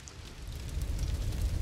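Rain falls in A Plague Tale: Innocence, heard as a soft, continuous patter with a low rumbling wash beneath it, steady and fairly close throughout.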